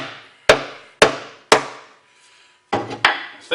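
A hammer taps a bushing into a Highland Park 18-inch rock saw: three evenly spaced sharp metallic knocks with quick decays, a brief pause, then two more strikes close together, near and clear.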